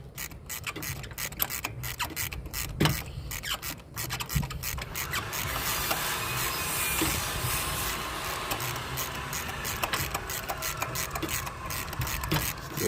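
A ratchet loosens a bolt on an Acura TL engine during a spark plug and coil-on-plug tune-up, producing rapid clicking first, then a continuous close mechanical whirring and rubbing that persists to the end.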